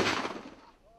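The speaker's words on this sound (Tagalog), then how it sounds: "Ilang kilometro ang layo ay papaputok ng kanyon ng Marines." A single deep, booming blast from a Marines cannon several kilometres away in Basilan, rolling and fading over a second like distant artillery fire.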